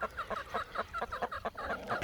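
Laying hens cluck in a quick, steady run of short calls, close and fairly quiet, with no voices over them.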